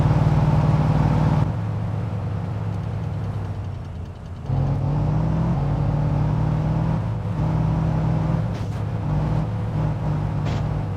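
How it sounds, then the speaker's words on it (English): Car engine in the driving game My Summer Car, running on gravel roads: a steady mid-pitched motor drone with revving swells that drops back briefly, close and loud throughout. "on these gravel roads, certainly, this car is definitely a handful."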